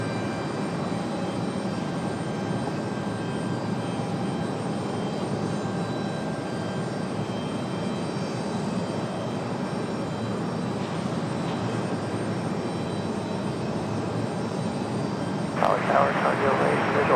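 An airliner at Raleigh-Durham International Airport roars steadily at a distance, its engine noise continuous and broad, with a brief louder burst near the end.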